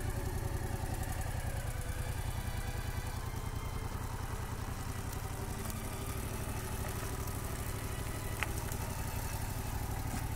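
A motorcycle engine idles steadily throughout with no throttle applied during clutch practice, a continuous low, even rumble with faint clatter and no speech.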